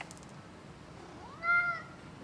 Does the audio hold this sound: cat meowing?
yes